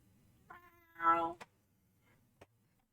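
A pet cat called Pixel gives a single short, fairly quiet meow at close range, followed by a couple of faint clicks and near silence.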